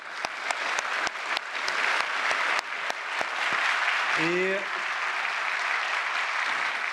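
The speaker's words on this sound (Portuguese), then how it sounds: "umas palmas para a Caixa Econômica Federal" Audience applause at a Brazilian ceremony launching credit lines for aquaculture and fishing, steady clapping with sharp individual claps standing out, then a voice speaking briefly near the end.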